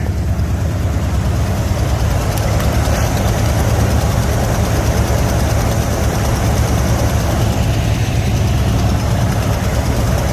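A 1973 Buick Riviera boat tail's engine runs steadily at idle, a loud, continuous low rumble close by with no break and no voices.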